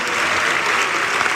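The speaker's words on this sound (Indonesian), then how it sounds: "Kita tepuk tangan untuk semua penanya." An audience at a Christian apologetics talk in Pekanbaru gives a steady burst of applause for the questioners. Many hands clap densely and evenly for about a second and a half, with no talk over it.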